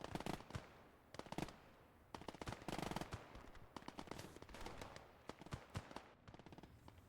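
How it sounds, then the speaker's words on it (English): In the Gates of Hell Ostfront video game, an MG42 machine gun fires rapid, dense bursts of shots along with scattered distant gunfire across a busy battlefield. "MG42 SMG's doing their work."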